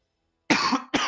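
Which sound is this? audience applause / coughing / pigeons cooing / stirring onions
coughing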